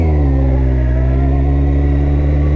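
A Kawasaki ZX14 motorcycle engine runs close by in a steady low rumble, its pitch holding fairly even with only slight rises, loud and continuous with no one talking.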